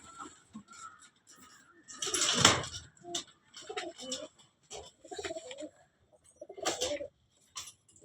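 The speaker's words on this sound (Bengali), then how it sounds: "ভালো ভালো পায়রা আছে।" Pigeons, a flock of older prize-winning birds kept on a rooftop, coo in soft low bursts that come and go, with people talking nearby between louder thumps and calls.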